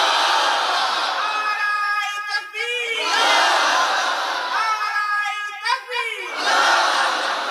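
Crowd at a Bengali religious gathering chanting takbir in unison, two loud swelling collective shouts with a voice leading between them, fairly near.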